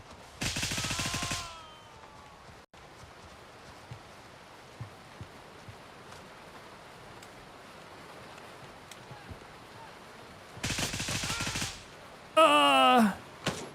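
Gunfire in the tactical shooter Gray Zone Warfare: two dense bursts of automatic fire near the start and again toward the end, separated by a long stretch of quiet ambient background, with a brief whooshing impact sound closing it out.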